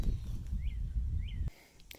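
Two short chirps from a bird a little distance away at a campground park, heard over a low outdoor rumble that suddenly drops away.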